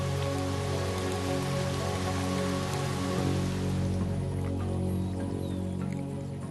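Steady rain pours down on the Serengeti, a dense, continuous hiss of drops with a low constant hum beneath, loud and close throughout, easing slightly at the very end with no voices.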